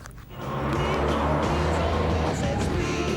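Car driving hard around a race track in Brisbane, a steady loud engine roar that builds up in the first half second and then holds at full volume, with no speech.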